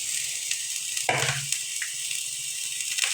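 Kolai greens with chopped onion and green chili fry in hot oil with a steady sizzle, with a brief stirring scrape and a few small knocks from the pan, and no talking.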